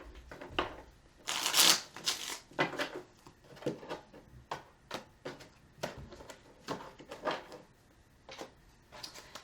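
Tarot cards are shuffled by hand in repeated bursts of crisp riffling and soft slaps, close and moderately loud, with brief pauses between shuffles and no voices.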